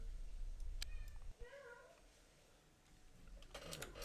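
A house cat meows faintly in a quiet room, a short wavering cry in the middle amid low background noise, followed by some rustling handling sounds near the end.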